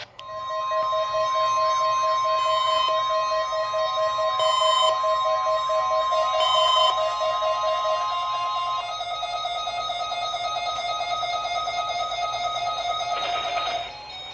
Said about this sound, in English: This is a test of NOAA Weather Radio's warning alarm systems. The attention signals you just heard